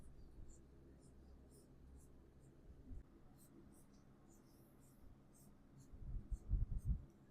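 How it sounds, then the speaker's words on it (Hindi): A chemistry example is written out during a lecture, producing quick, light scratchy strokes in short bursts, with low murmuring voice sounds rising near the end. "एग्जांपल और लिखता हूँ"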